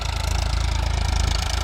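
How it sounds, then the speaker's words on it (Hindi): A tractor engine runs steadily at a low, thrumming idle-like pace while deep-ploughing a garlic field, a loud, close, continuous rumble with a regular pulsing beat and no voices. "चल रहा है ट्रैक्टर"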